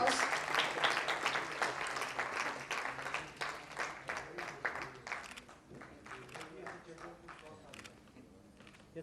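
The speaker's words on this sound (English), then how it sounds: "May you please have a round of applause." A large audience at an AIAC event in New Delhi breaks into dense, sustained applause that starts loud and gradually thins out, with a few voices mixed into the clapping.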